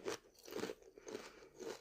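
Walkers Sensations honey glazed roast ham potato crisps are crunched close up, with four or five sharp, crackly bites and chews in a quick rhythm, with no talking in between.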